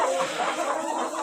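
Hens in a cramped coop of about a hundred chickens with chicks, rolling in fresh straw, give soft, overlapping clucks and murmurs close by, a continuous low chatter of poultry.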